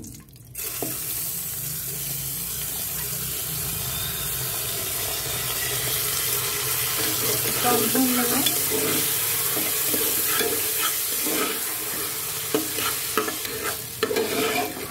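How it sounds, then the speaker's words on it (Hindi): Washed rice for a dry fruits pulao is fried and stirred in a pan, a steady close sizzle with scraping and stirring scuffs that grow busier toward the end, and no one talks. "हम इसको भून लेंगे दो मिनट"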